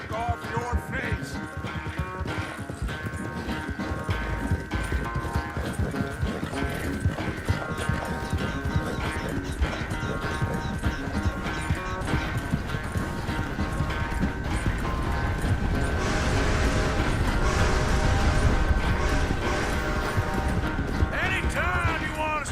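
Horse hooves clip-clop in a steady rhythm under a dense mix of music and mechanical clatter, growing louder toward the end.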